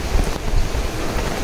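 Heavy rain falls outdoors in Belgaum during a burial. It gives a dense, loud, steady hiss with low rumbling patter, close and continuous, and no talk.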